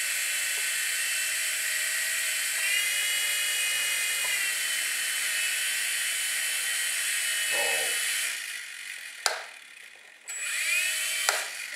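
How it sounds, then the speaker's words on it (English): Toy micro helicopter tail rotor spinning, a thin high-pitched whine close up that holds steady with small pitch shifts, then cuts out and restarts twice near the end. "The tail rotor is working."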